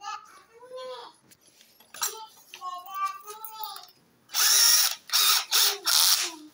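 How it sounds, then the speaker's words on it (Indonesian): A power drill with a 3 or 4 mm bit bores an oil channel into the cylinder head cover of a Yamaha Soul GT 125 motorcycle. Four short, loud whirring bursts follow a stretch of someone talking. "Lihat nih, di bornya begini. Pakai ukuran 3 mm atau 4 mm."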